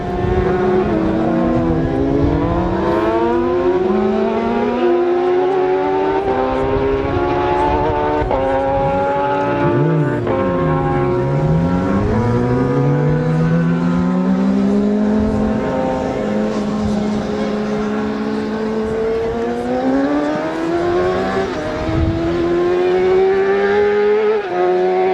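Racing motorcycles, including a Yamaha, a Suzuki and a Kawasaki, roar past loudly during the Manx Grand Prix Senior Race, engine pitch sweeping up and down as several bikes pass close in quick succession.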